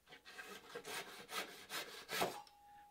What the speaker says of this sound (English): My saw is grabbing, I think, because I probably have a tooth that's out of alignment.